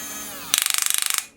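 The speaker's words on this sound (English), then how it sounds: "don't freak out when you hear some clicking, it's just the gear ratchets working as they should to protect the moving parts." Rapid run of about fifteen sharp, evenly spaced clicks from the plastic gear ratchets in a HuiNa RC construction toy, loud and close, lasting under a second with no talk over it.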